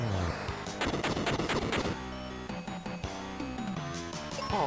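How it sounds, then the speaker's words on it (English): Mega grenades exploding in the SNES RPG Final Fantasy: Mystic Quest, a rapid burst of loud blasts over game music during a turn-based battle, then the music carrying on. "Let me try my mega grenades that I just got."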